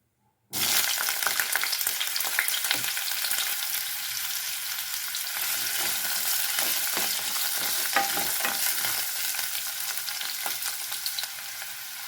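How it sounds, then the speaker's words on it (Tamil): After a short silence, cauliflower drops into hot oil in a kadai and fries with a loud, dense, crackling sizzle. Frequent scrapes from a stirring spatula run through it and carry on to the end. "கடாயில் கொஞ்சம் எண்ணெய் ஊற்றிக்கலாம். இதில் காலிஃப்ளவர் சேர்த்துக்கலாம்."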